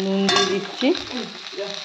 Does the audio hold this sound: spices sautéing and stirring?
yes